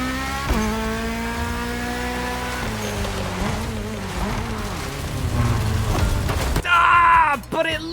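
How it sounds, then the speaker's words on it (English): A Bugatti Chiron fitted with an inline-4 rally turbo engine in the racing game The Crew revs and shifts, its pitch climbing and dropping through gear changes, then ends in a sharp, louder burst with turbo-like hissing. "this is the Chiron with an inline 4 rally turbo"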